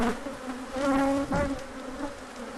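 Killer bees buzz inside an infested shed, a close, steady droning hum with wavering pitch as insects fly near, loud and continuous with no talking.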